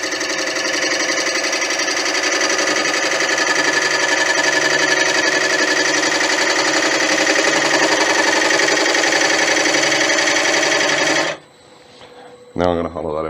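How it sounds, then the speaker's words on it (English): Hollowing a tiger wood box on a wood lathe gives a loud, steady rasping cut with a high whine that runs without a break for about eleven seconds, then stops abruptly, followed by a brief clatter. "Now I'm going to hollow that out."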